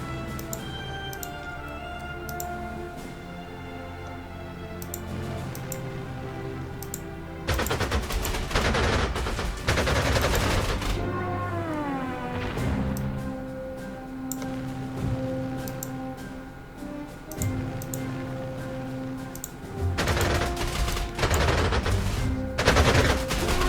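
Gunfire from a Panzer Corps 2 strategy game unit shooting down tactical bombers, with bursts of rapid shots over steady game music, the heaviest volleys clustered in the middle and near the end.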